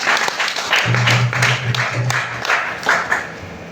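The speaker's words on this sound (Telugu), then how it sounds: "ఒకసారి గట్టిగా చప్పట్లు కొడదామా?" Congregation clapping together in unison during a Telugu church sermon, a dense, steady burst of many hands lasting a few seconds with a low hum underneath.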